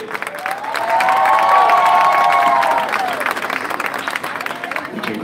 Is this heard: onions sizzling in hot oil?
no